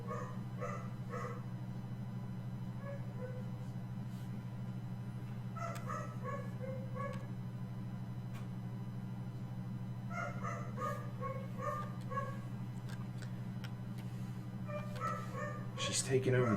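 A small dog yips while romping with bigger, quiet dogs, sending scattered short bursts of high barks at a distance over a constant low electrical hum, with a louder flurry right at the end.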